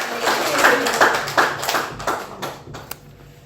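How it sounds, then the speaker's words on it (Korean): Church congregation clapping for the pastor, a short burst of scattered hand claps that thins out and fades within a few seconds, with faint talk mixed in. "이미 등단하셨지만 박수 한번 보내주세요"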